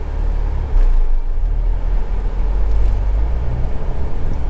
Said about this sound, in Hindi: आप इंजन की आवाज़ सुन सकते हैं